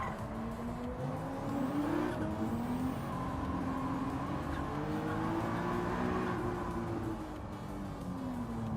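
A race car engine in Gran Turismo 7 revs continuously with a rising and falling whine, accompanied by a faint tire squeal, the sound staying loud and close throughout.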